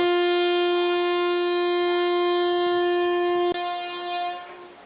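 A train horn sounds long and loud with a steady, rich tone as the train departs Rampurhat station, then cuts off sharply and gives way to fading rumble.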